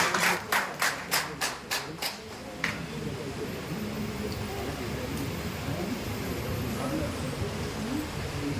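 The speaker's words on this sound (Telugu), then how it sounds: "ఒకసారి క్లాప్స్ కొడతాం కంపెనీకి." A group claps together in unison for a company at an electric-vehicle business meeting, about a dozen sharp rhythmic claps over two and a half seconds, then fading into a murmuring room.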